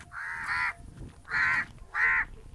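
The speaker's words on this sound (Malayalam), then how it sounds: "അയ്യോ കാക്ക." A crow caws three times in separate, fairly close calls spaced about half a second apart, with quiet outdoor background between them.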